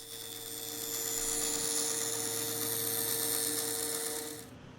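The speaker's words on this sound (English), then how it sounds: "I'm using the bandsaw here." A bandsaw cuts a rectangle out of the corners of a wooden headboard side panel, giving a steady, moderately loud whining buzz that runs for about four seconds and stops abruptly near the end.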